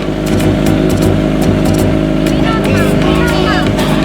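A Kawasaki ZX-25R sport motorcycle engine idles loudly nearby with quick throttle blips and revs, while voices talk over it.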